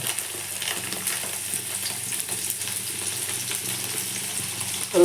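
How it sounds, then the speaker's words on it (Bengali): Oil heating in a pan gives off a steady, close sizzling hiss that runs evenly throughout with faint crackle, and a brief louder clatter comes right at the end. "গরম হোক তেলটা গরম হচ্ছে"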